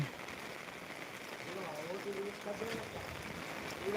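Steady rain falls across a village in Velichala, a dense even hiss of drops on surfaces with faint voices murmuring underneath throughout.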